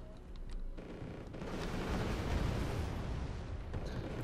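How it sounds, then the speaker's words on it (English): Long-range mortar artillery fire in the video game Wargame Red Dragon, set in mountain warfare, heard as faint, distant booming rumbles that swell into a sustained roar. "It seems to be very long-range mortars."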